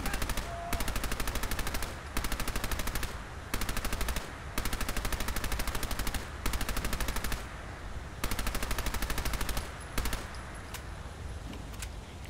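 Bursts of automatic gunfire in the Fallout 4 VR video game come in regular short volleys of rapid shots, each about a second long and separated by brief pauses, loud and close.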